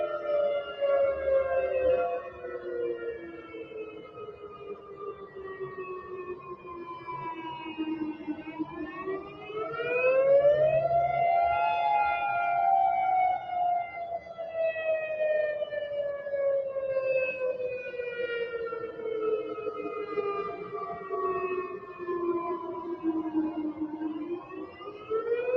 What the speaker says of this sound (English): that's apparently just the tornado siren